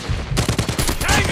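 Rapid automatic gunfire rattles out in a quick burst of close, loud shots during a Call of Duty Mobile Kill Confirmed match, with game sounds layered over it.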